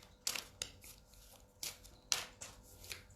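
Oracle cards being shuffled by hand, several short riffling bursts at irregular intervals, fairly quiet and close, with no talking over them.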